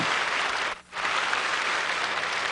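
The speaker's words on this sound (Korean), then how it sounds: "우리 김석균 채미 찬양 사역자님께 우리 뜨거운 박수를 한번 드리십시다" A congregation at a Sea Sunday memorial worship service in 2004 gives warm applause for a worship minister; loud, dense clapping with a brief dip near the start before resuming strongly.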